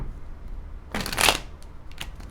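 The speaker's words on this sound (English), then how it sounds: "Alright, one more shuffle." Tarot cards being shuffled by hand, a brief close riffle of papery flutter lasting about half a second amid a quiet room, with no talk.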